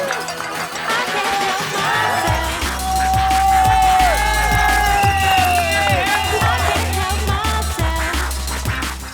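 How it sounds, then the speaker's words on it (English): A large, wild crowd of fans at an Irish mountain bike race cheers and shouts continuously, loud and close, with whoops and chatter layered over a steady low rumble and music. "The fans there as well, they were out in force and they gave us the wildest and most entertaining crowd we've ever seen"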